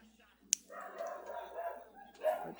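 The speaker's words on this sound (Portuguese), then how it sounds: "Esse cachorro latindo que é louco." A dog barks faintly in the background, with short distant yaps mixed under a man's speech.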